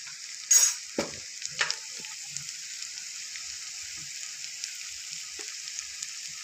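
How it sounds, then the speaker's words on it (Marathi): Spices frying in oil in a pan with a gentle, steady sizzle, plus a few soft stirring clicks near the start, heard close and alone. "तेल सुटेपर्यंत आपल्याला मसाले परतून घ्यायचे आहेत"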